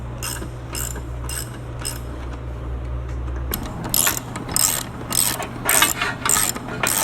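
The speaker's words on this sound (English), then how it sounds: "I can actually tighten a bolt." A ratchet wrench tightens a stud on a 300 utility engine, its rapid clicking coming in several short bursts, louder and more distinct in the second half, over a steady low hum with no speech.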